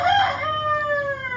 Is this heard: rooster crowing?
yes